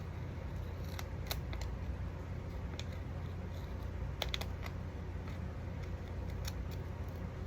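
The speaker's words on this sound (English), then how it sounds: "I have like excess tape here, so let me just cut this." Scissors snipping away excess tape on a mini album made from altered packaging, a few soft crisp cuts scattered over several seconds, near and fairly quiet over a steady background hum, with no talking.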